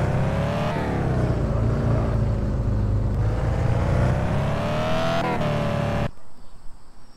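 A car engine in Car For Sale Simulator revs loudly and steadily, its pitch swelling and dipping as the throttle moves. The engine cuts off abruptly near the end, leaving a faint, quiet tail.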